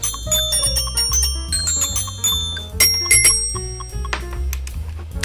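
A bright, ringing glockenspiel melody of quick struck metal notes, played over a steady low beat, loud and busy throughout.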